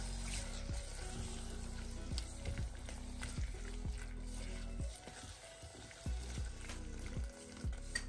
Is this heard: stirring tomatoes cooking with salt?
yes